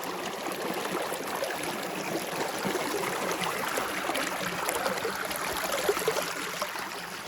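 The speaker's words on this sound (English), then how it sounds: "Wow, real flowing water." A stream flows steadily in a dry forest along a hiking trail, its water a continuous close hiss and babble that stays even and unbroken throughout with no voices.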